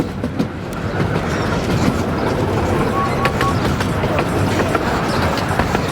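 Romney Hythe and Dymchurch Railway miniature train pulling out on its line toward Dungeness, a steady rumbling roll of wheels and carriage noise with faint clicks, continuous and close throughout.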